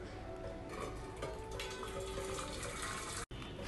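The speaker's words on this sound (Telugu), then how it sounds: "ఫస్ట్ ఒక బౌల్ తీసుకొని హాట్ వాటర్ యాడ్ చేస్తున్నానండి." Hot water poured into a bowl, a steady faint gush of liquid filling it, continuous for a few seconds with one brief dropout near the end.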